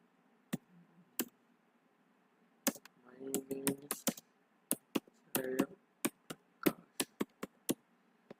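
Keys on a computer keyboard tapped while typing HTML code: scattered single clicks, then two denser bursts of quick keystrokes, fairly close and moderately quiet, with no voices.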